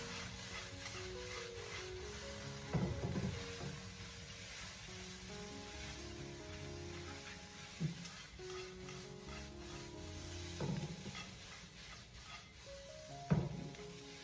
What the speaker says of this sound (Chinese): 调味以后，我们立刻马上将其迅速的快速翻炒，把料汁给它充分的翻炒均匀